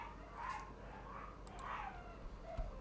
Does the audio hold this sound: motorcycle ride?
no